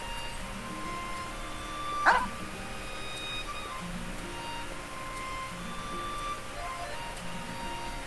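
A dog in Genshin Impact gives one sharp, clear yelp over a steady game soundscape, and a few softer whimpering yips follow later at moderate distance.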